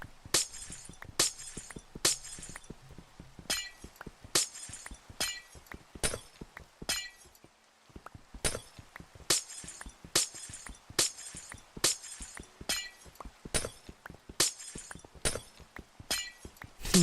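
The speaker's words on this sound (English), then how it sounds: "Is it ice or glass? Glass break." Glass blocks shattering in the Minecraft video game, a long run of sharp crisp breaking crashes repeating at a brisk, fairly steady rhythm, loud and close with no voices.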